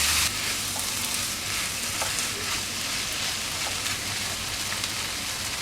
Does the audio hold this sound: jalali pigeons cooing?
no